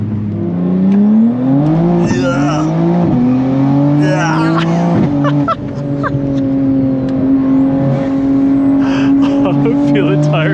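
A tuned BMW M240i making 830 wheel horsepower revs and accelerates from inside the cabin. It drones loudly and shifts several times with sharp rising sweeps, and an occupant talks over it.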